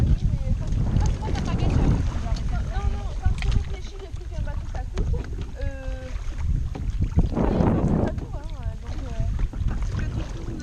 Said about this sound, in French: On va faire un tour de canoë.